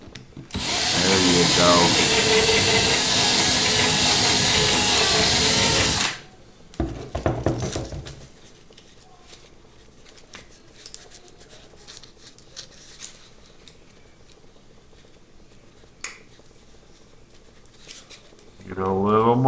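Power drill boring into a small die-cast Matchbox Dodge Challenger toy car, a loud steady whine for several seconds that stops abruptly, followed by short bursts, quiet handling noises and a brief spoken remark.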